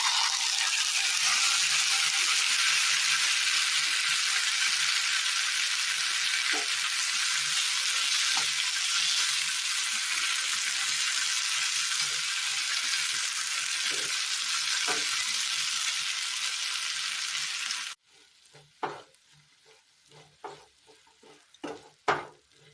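Ground tomato paste hitting hot oil in a pan, a loud continuous close sizzle that suddenly drops away to quieter scattered clinks and scraping of the pan.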